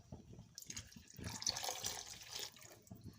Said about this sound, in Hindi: इसमें हमने 2 कप पानी ऐड कर देना है।